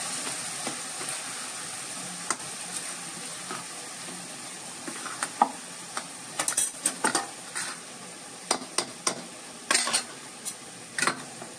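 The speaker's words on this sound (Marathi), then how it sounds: "आता आपलं शिजलेलं हे जे प्रकरण आहे ते आता फोडणीमध्ये घालायचं" Cooked whole masoor lentils going into a red-garlic tempering, a soft sizzle with scattered metal clinks and scrapes of a utensil that grow louder and more frequent toward the end.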